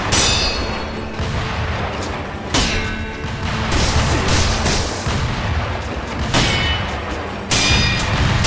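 Gunfire in the video game Sekiro: Shadows Die Twice, several loud sharp shots with metallic clangs, spaced irregularly a second or two apart over a rumbling game background.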